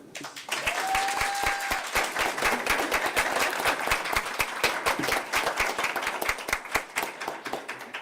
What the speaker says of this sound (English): Audience, if you can please join me in a round of applause for our school board members.